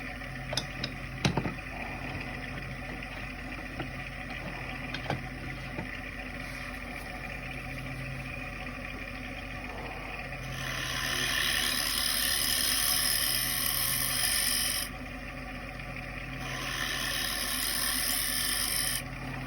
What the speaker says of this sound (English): Leave a little lip on the outside. Little scraping action.